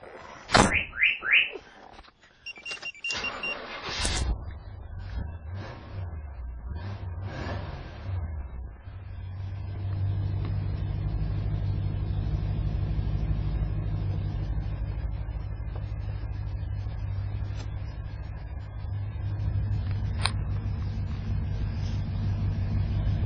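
A C3 Corvette with new polyurethane control arm bushings pulls away on a test drive, heard after a few door and cabin clunks as a steady low engine drone settles in and runs on at even loudness.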